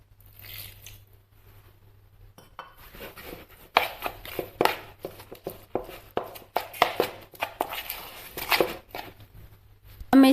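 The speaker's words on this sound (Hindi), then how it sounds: "इसको हम अच्छे से चम्मच की सहायता से मिक्स कर लेते हैं" Biscuit cream is stirred with a spoon in a bowl, giving soft wet squishes and a quick run of close, rhythmic scraping and tapping pulses that grow busier and louder toward the end.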